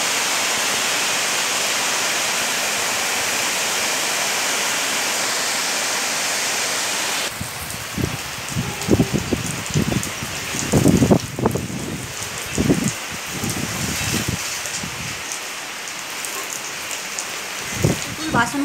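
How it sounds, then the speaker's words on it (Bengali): Heavy rain pours down in a dense, loud, even hiss for several seconds; the sound then turns choppier, with close splashes and knocks over the continuing downpour. "এখনো বৃষ্টি পড়েই যাচ্ছে"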